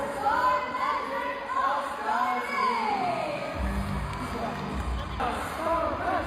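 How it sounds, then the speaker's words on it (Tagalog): A big crowd at Araneta shouts and screams as a volleyball game begins. The cheering is loud, continuous and arena-wide, with louder swells and whoops rising over the din. "Ito nga, sigawan na dahil volleyball na."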